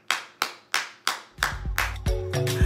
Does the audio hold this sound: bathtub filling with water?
no